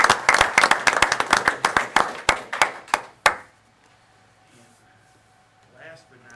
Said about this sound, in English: If we give them a round of applause.